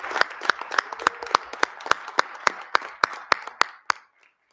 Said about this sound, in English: Round of applause for Mike and the team.